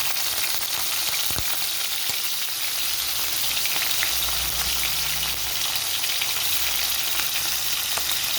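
Garlic and green chili fry in hot oil in a pan, giving a steady, dense sizzle and crackle close up, with no voices.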